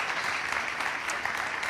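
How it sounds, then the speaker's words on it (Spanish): An audience at an interview event gives a brief round of applause for a guest, a fairly soft, even patter of many hands clapping together at moderate distance. "un aplauso para Bernal,"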